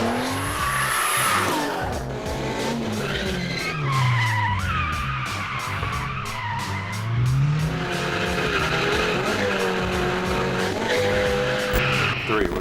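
A drift car slides through paved one-way city streets with loud, sustained tire squeal and screeching, its engine revving and rising in pitch under the skid noise, close and continuous.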